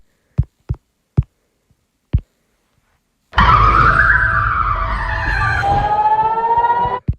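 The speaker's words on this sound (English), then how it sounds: "the Belgian siren is like a car that is hitting the brakes" Belgian emergency alert siren: after four sharp, isolated knocks, a loud, harsh wailing tone starts abruptly and holds for nearly four seconds with a wavering, slightly falling pitch, like screeching brakes, then cuts off.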